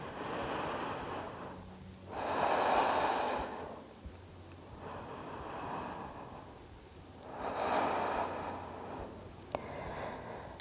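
Slow, deep breaths during a gentle beginner vinyasa yoga pose, two long soft inhale-exhale cycles, quiet and close, with faint background hiss and no talking.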